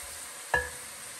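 Whole garam masala and cumin dropped into hot oil, giving a brief sharp crackling burst over a faint background sizzle.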